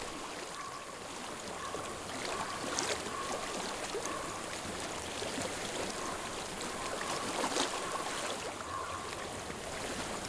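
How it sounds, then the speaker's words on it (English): A flowing water stream in the video game Hellblade: Senua's Sacrifice, a steady, even rush of running water that continues throughout at a moderate level, with no voices. "I hear water."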